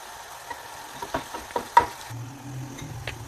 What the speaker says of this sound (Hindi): अब प्याज को गोल्डन कर लेंगे और इसे मुस्तकिल चम्मच चलाते हुए इसे गोल्डन करना है